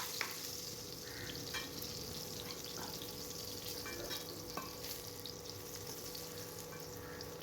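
Pointed gourd and potato fry in oil with a continuous bubbling sizzle, close and even throughout, punctuated by faint clicks of a utensil.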